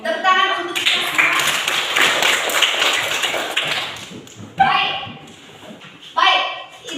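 A group of students clapping hands together in a classroom, a dense burst of applause lasting several seconds, with children's voices talking before and after.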